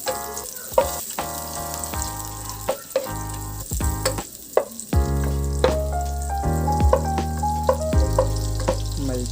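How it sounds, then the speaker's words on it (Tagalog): Half a cup of butter melting in a preheated pan, sizzling and crackling steadily at close range with occasional sharp clinks and knocks, the frying hiss growing fuller and louder midway through; no one speaks. "I will preheat the pan and will put the 1/2 cup of butter."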